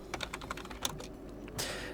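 Rapid keystrokes on a computer keyboard as a sudo mkswap command is typed into a Linux terminal, a quick uneven run of close, crisp taps ending in a heavier press, with no voices.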